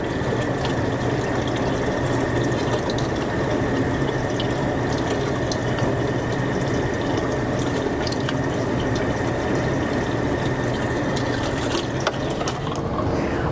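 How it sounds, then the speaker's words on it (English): Water pours steadily from a tap into a 3.5-gallon watering can, a continuous close rushing and splashing that stays even throughout, with no talking. "my water can is full."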